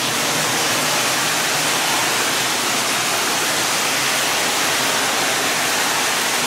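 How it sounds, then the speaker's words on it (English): Steady, loud rushing water inside the Norwalk Tunnel, with a constant broadband roar like a strong flow echoing through an enclosed channel, unbroken throughout. "You can really hear the flow of the water here somewhere."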